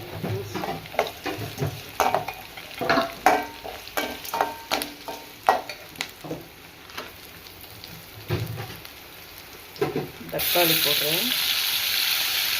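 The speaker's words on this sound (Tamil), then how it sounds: "தக்காளி போடுறேன்" A pan for a pumpkin stir-fry with irregular scraping and stirring clatter over crackling oil, then tomatoes going in and setting off a louder, steady sizzle near the end.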